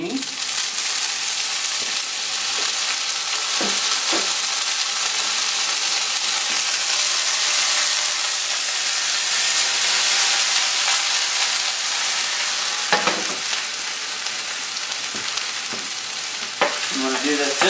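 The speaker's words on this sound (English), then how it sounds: "Also going to saute a little bit of zucchini" Zucchini sautéing in olive oil in a pan, a dense, loud, steady sizzle filling the whole stretch, with a few soft utensil knocks and stirring sounds near the end.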